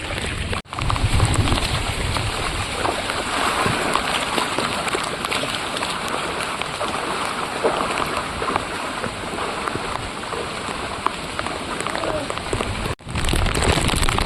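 Heavy monsoon rain pours down during a walk along a footpath toward an open plateau, a loud, unbroken hiss of drops beating on surfaces that continues for about fourteen seconds.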